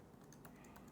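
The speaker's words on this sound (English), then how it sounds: "let me try just typing a simple print statement" Faint, quick clicking of keys on a computer keyboard, a short burst of light taps while a simple print statement is entered in a programming lesson.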